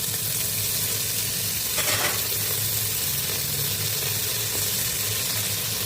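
Handful of mint leaves sautéing in a pan for Kongu-style mushroom biryani, a steady close sizzle with a brief burst of added crackle near the two-second mark, no voices.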